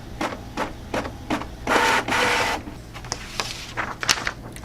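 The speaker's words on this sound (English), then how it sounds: "Okay, printing the back." A printer printing the back of a paper wallet, with short mechanical whirs and clicks followed by a longer, louder feed-and-print stretch, then more scattered clicking as the sheet moves through, nearby and without talking.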